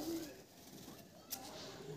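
Desi pigeons in a loft, including a split-tail bird, coo softly and low in a quiet room, with faint background rustle.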